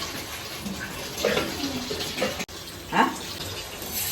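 Water from a household tap runs into a container at close range, a steady gushing splash with faint talk in the background.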